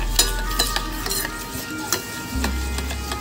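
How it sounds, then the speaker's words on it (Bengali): Mustard oil being stirred into a beaten egg mixture for steamed Bengali egg curry, a spoon tapping and scraping a bowl in a quick irregular rhythm, close and moderately loud with no talking. "বেশ কিছুটা সর্ষের তেল দেব। ভালো করে মিক্স করে দেবো।"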